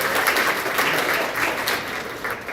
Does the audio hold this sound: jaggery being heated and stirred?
no